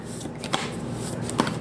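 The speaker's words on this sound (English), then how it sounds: "I'm just going to shuffle it just one more time." A deck of tarot cards being shuffled by hand, a soft continuous riffling with a couple of sharper card snaps, close and quiet.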